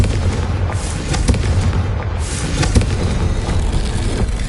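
Confringo spell explosions in Hogwarts Legacy on PS5, loud rumbling booms and blasts layered over continuous game noise.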